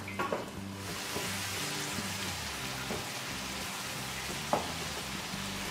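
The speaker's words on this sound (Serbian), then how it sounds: "Sad ga pržimo dok ne postane sve mekano." Onions fry in a pan for an Indonesian red bean soup, giving a constant close sizzle with low rhythmic stirring scrapes and a few sharp taps, and no talk.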